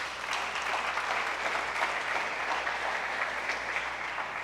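Sustained applause from a church congregation, dense and even clapping that fills the room at steady loudness from start to finish.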